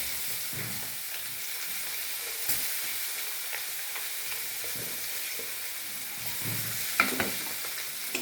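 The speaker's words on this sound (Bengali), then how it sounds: "পেঁয়াজটা ভাজা ভাজা হয়ে গেছে" Sliced onion frying in hot oil with panch phoron spices, a steady close sizzle with occasional stirring scrapes and small pops, no voices.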